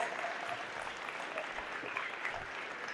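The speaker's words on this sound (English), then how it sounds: "Let's give him one more big round of applause" A conference audience gives steady, dense applause after a youth keynote address, heard as a soft, even wash of clapping from a distance for the full three seconds with no speech over it.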